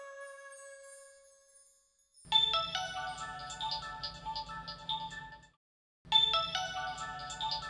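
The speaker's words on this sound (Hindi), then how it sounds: "ये रात को पता नहीं किसका फोन है।" At night, a phone rings with a melodic ringtone. It plays a short tinkling phrase, goes silent for a moment, then restarts, heard clearly with no speech over it.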